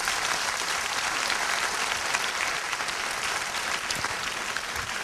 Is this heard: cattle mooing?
no